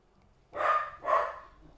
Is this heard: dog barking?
yes